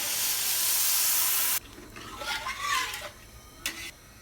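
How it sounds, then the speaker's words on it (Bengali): Hot water poured onto rice frying in a pan for polao gives a loud, steady hiss of steam for about a second and a half, which cuts off abruptly and leaves softer bubbling and a few clinks. "আমি এখানে গরম পানি অ্যাড করছি।"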